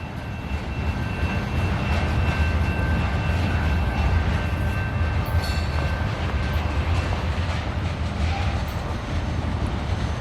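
A westbound CN local freight train led by locomotives CN 5246 and CN 5421 rolls past at Battle Creek, Michigan, giving a loud, steady rumble with continuous wheel and rail noise throughout.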